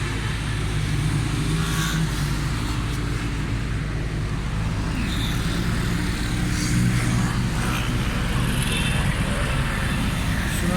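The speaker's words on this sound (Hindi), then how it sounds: "साइलेंसर का साउंड भी ज़बरदस्त है।" A Hyundai Santro car engine with a reported misfire and fuel fault runs steadily, its loud, continuous low rumble and exhaust note close by, with no breaks.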